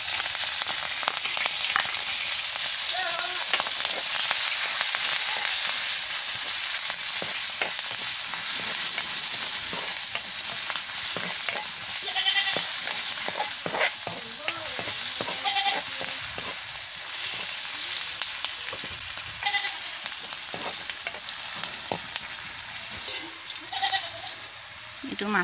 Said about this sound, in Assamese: মাছৰ পেটুৰে জ্বালা ভাজি বনাম